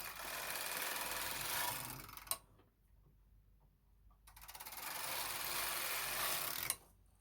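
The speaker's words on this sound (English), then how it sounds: "basically what you do is you knit 2 rows that you need to do to start this knitting" A Knitmaster Mod 150 knitting machine carriage runs across a row with a continuous mechanical whir, stops with a clack, pauses in near silence, then sweeps back for a second row ending in another clack.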